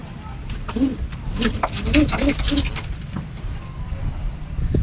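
Domestic racing pigeons coo softly in a rooftop loft fitted with bamboo, a few low rounded calls repeating in short bursts over steady background noise and light traffic.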